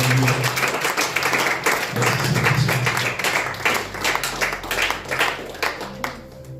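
A church congregation applauds and cheers during an evening worship service, a steady dense wash of clapping with raised voices running throughout, fairly loud and close.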